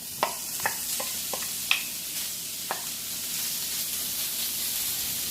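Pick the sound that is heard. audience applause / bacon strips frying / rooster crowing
bacon strips frying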